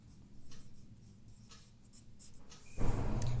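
Hindi synonyms being written by hand, a pen scratching in short strokes on paper, close and quiet, with a louder rustle or handling noise near the end.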